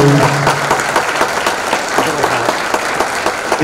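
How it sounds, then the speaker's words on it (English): Loud, close applause from an audience after a musical performance at a Field of Heroes event, with dense, rapid hand claps sustained evenly from start to finish. "how about a nice round of applause for that beautiful, beautiful rendition"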